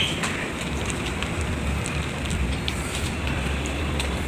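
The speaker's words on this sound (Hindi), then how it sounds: "आज बारिश हो रही है" Steady rain falls as a dense, even hiss, close and continuous, with scattered brighter drop ticks on a surface.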